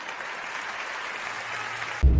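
Applause for Gagan Acharya Kumble at an informal gathering, a steady, moderately loud wash of clapping that continues evenly, ending with a brief thump.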